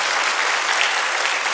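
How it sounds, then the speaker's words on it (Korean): Dense, steady applause fills a church sanctuary as a Sunday worship congregation claps together, a broad continuous patter with no pauses throughout. "박수 한번 주셔도 될 것 같아요."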